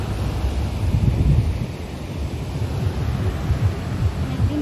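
Sea waves and wind at Tajpur beach, a continuous low roar of surf mixed with buffeting wind noise on the microphone, steady and fairly loud throughout.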